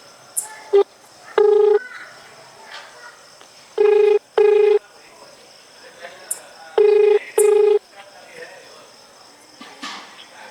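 A phone call being placed: bursts of dialing tones come in pairs at a steady pace, separated by quiet gaps, with faint background sounds and no clear speech.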